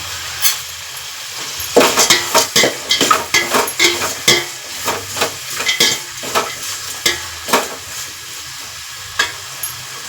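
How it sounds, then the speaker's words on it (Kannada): Mixed vegetables for vegetable pulao cook in oil while being stirred, a burst of rapid, loud metal scrapes and clatters over a hissing sizzle, then slower, spaced stirs trailing off. "ಈಗ ಅದು ಎಣ್ಣೆಲೆಲ್ಲ ತರಕಾರಿಗಳು ಬೇಯಬೇಕು"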